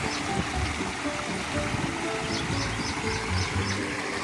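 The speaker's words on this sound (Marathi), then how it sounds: "हे बघा, अजून एक मिनी धबधबा" A small mini waterfall on an outdoor trail rushes and splashes in a steady nearby flow, with no talking.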